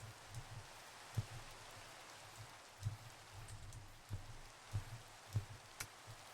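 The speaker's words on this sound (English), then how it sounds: "Minecraft during the rain" Rain falls steadily in the Minecraft video game, a soft continuous patter with scattered louder drops, quiet and even throughout.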